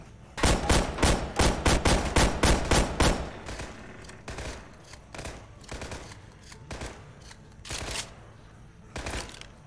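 Shotgun blasts from Left 4 Dead 2 fire in a rapid, loud burst of about a dozen shots, followed by slower, more scattered single shots spaced a second or two apart.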